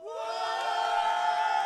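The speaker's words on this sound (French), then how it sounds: "on va demander aussi un tonnerre d'applaudissements pour leurs opposants" Esports crowd at a League of Legends final roaring and cheering as the opposing team, Colors eSport, is introduced, a dense, sustained wall of voices with whoops and shouts filling the hall.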